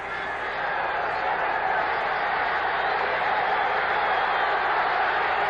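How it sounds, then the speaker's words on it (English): Noisy stadium crowd at Commonwealth Stadium during a 1979 CFL West Final football game between Calgary and Edmonton, a steady broad roar of many distant voices filling the space throughout. "A noisy crowd at Commonwealth Stadium"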